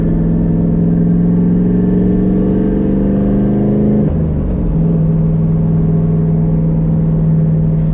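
A turbocharged New Edge Ford Mustang with a T56 transmission drones steadily on a night drive, heard loud from inside. The engine note holds, briefly drops at a gear change midway, then settles into a smooth cruise.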